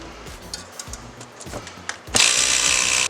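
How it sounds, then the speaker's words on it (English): A small Ryobi electric pump inflates a bicycle air suspension fork on a budget bike build, starting with a few soft clicks, then a loud, steady whirring hiss that runs close up without a break and with no voices. "It's just easier at the desk to use this little Ryobi pump that I have laying around."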